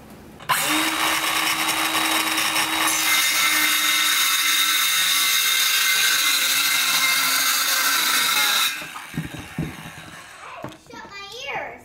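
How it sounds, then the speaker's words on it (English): A power saw rips through shiplap wood boards for about eight seconds, a loud steady whine that cuts off sharply, followed by quieter handling noises and a voice near the end. "That has to be one of the most horrific noises. What? Been sawing all day."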